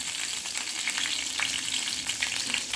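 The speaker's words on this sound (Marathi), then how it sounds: "मोहरी टाकली मी, आता मिरच्या टाकल्या," Green chillies dropped into hot oil with mustard seeds for bhindi (okra) bhaji, a continuous crackling fry with small spits and pops, fairly quiet and close with no talk.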